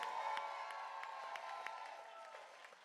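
Crowd at an outdoor voting rights rally in Jackson, Mississippi claps and cheers, a faint, distant wash of applause with scattered whoops that slowly fades.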